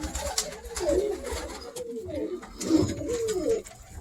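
Pigeons, including a hen, coo in a loft. Soft, throaty rolling calls repeat close by, with faint rustling and a low background hum between them.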